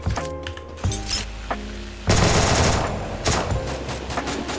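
Gunfire in a Thai-language shooter video game starts after a moment of game sounds and voice, then a dense burst of rapid shots and thuds keeps rolling loud to the end.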